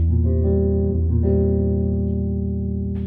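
A bass guitar rings out a sustained chord with an added seventh, low and steady, holding for about three seconds with a slight shift partway through.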